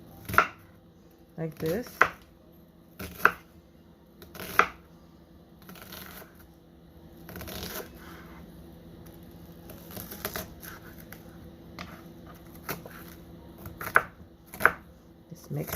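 Knife chopping vegetables on a cutting board while preparing a roasted cauliflower and white bean soup, sharp close cuts in irregular bursts with quiet pauses between, and a few brief spoken words.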